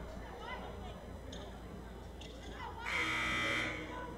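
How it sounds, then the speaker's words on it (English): A basketball game buzzer at a women's college basketball game blares for about a second, loud and harsh over an arena crowd murmur and a commentator's voice. "Buzzer sounds."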